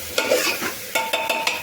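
Spoon stirring Gujarati vaghar (spiced tempering) for seasoned rice in a pot on a village wood stove, with several distinct scraping stirs over a soft oily sizzle, close and clear with no talk.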